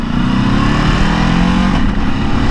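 Ducati Desert X motorcycle in enduro riding mode, its engine running at a steady, loud idle-to-rev drone throughout, close by with no talk over it.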